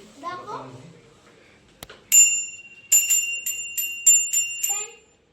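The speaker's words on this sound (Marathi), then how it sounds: "कृष्णा तुझ्या ह्याला पण आणली आहे बेल" A voice briefly, then a new child's bicycle bell rings in a quick series of bright metallic dings, about six in a row, close by.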